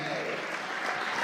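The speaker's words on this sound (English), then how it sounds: "you should give yourself a big hand clap of all the wonderful people that are here today." Audience applause at an interfaith conference in the nation's capital: dense, steady clapping from a crowd, sustained evenly throughout without pause.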